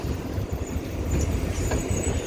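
A Tyne and Wear Metro train braking at Tynemouth station, a steady low rumble of wheels and motors with faint high squeals from the brakes creeping in, continuous and fairly close with no talk.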